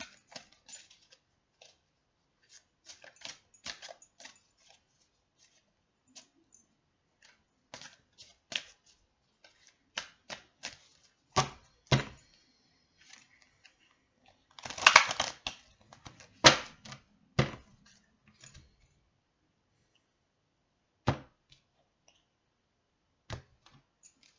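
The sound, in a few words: shuffling large playing cards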